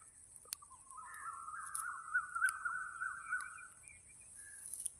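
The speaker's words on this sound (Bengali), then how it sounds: "তোমাদের জন্য ক্যামেরা বন্দি করে নিয়ে আসলাম জোড়া শালিক" A pair of myna birds in a green springtime setting give a drawn-out whistling call, faint and fairly close, rising and falling over a few seconds against a quiet background.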